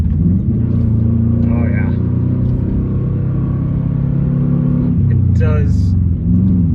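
A manual Subaru Forester XS drives along with a steady, loud engine drone and low rumble, pitch shifting briefly as gears change, while someone talks over it from inside the cabin.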